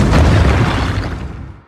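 Explosion sound effect: a loud, deep boom that hits at once and then rumbles and fades away over about a second and a half.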